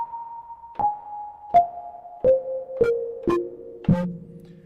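Kodamo EssenceFM MKII FM synth voice through a room reverb: six plucked notes stepping downward, each with a sharp attack and a short lingering tail that overlaps into the next.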